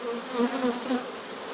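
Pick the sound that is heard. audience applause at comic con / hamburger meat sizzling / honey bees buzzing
honey bees buzzing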